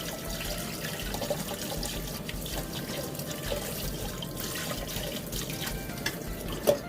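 Dried sea cucumber being washed in water at a sink, with steady running and splashing water from start to finish, a few louder splashes near the end, and no talking.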